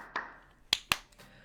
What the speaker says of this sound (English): Hamza claps twice, calling the room to attention